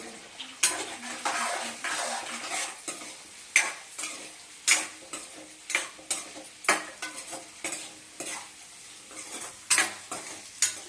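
Egg curry base with turmeric and salt frying on a low flame. A gentle sizzle sits under repeated metal-on-pan stirring clinks and scrapes that come at an irregular pace, close by.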